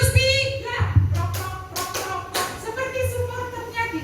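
Teachers at a Pasuruan school positive-culture session clapping in short counted patterns, a few sharp group claps spaced across the moment with a voice talking between them.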